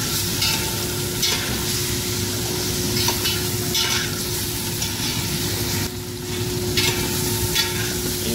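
Chicken and chana dal are stirred in oil and spices in a pan for shammi kebab, with a loud, continuous close sizzle and repeated scraping strokes in an uneven rhythm.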